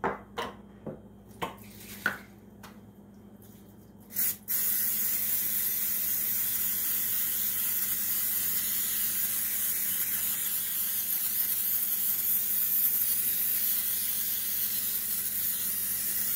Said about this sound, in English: We use the spray butter, and what it does, it just coats the top of the flour